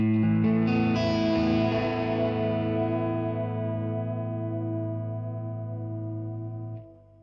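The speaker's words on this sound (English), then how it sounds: "Here is the sound of vibrato going to both amplifiers." A sustained distorted electric guitar chord rings out with a wavering vibrato shimmer sent to two amplifiers, slowly fading before cutting off near the end.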